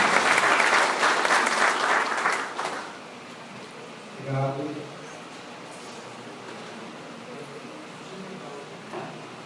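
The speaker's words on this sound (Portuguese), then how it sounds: "Por favor, aplaudam o nome dele." Audience applause at an evening talk on the ethics of Jesus, a brief burst of clapping for the speaker that fades within about three seconds, followed by a quieter room with a short voice.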